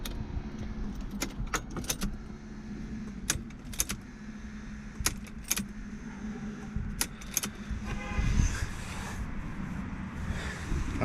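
Keys jangle in sharp, bright bursts as the ignition key is turned in a Merkur XR4Ti, several distinct rattles close to the microphone over a quiet, low background hum.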